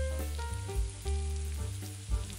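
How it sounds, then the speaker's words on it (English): Garlic sizzles gently in oil over low-medium heat alongside chilies, a soft continuous crackle under a steady tonal hum with a few duller bumps. "let it marry at a low-medium heat. Only allow the garlic to lightly brown."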